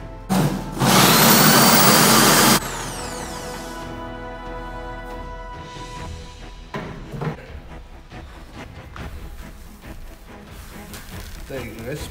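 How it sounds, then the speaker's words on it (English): A grain mill grinds malt for a home-brewed pale ale, a loud close whirring burst for about two seconds that then cuts off, followed by quieter clatter and handling noises. "So getting some grain milled."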